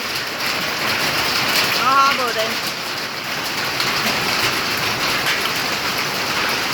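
Hail drums steadily on the sheet roofing of a farmyard in a dense, loud patter throughout, with someone briefly speaking over it.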